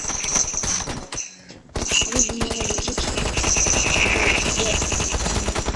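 Automatic weapon fire in the shooter game PUBG, rapid rattling bursts of close gunshots broken by a brief gap near the middle, then continuing in dense rapid volleys.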